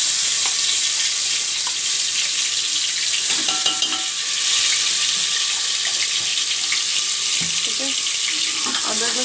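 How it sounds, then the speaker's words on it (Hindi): Ginger garlic paste sizzling in half a cup of oil inside a pressure cooker, a steady dense frying hiss with occasional stirring clinks, close and continuous, no talking. "अदरक लहसुन डाल के"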